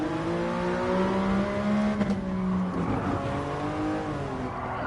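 A big carbureted 12-cylinder Mercedes Black Series engine revs hard and accelerates on the Nürburgring, its harmonic tone climbing, dipping briefly at a gear change, then rising again, loud and close.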